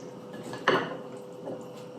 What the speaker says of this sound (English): Now we'll give it a mix.